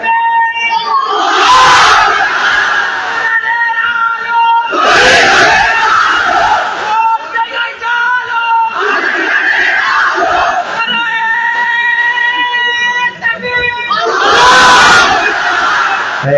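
A large crowd at an open-air Islamic religious gathering at an Eidgah field shouts a takbir chant, with four loud, sustained collective roars rising and falling in a repeated call-and-response pattern.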